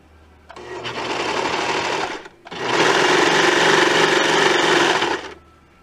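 Baby Lock serger stitching through layers of thin satin and stretchy lycra: two loud, fast whirring runs, the first about two seconds, then a brief pause and a longer second burst, with no talk.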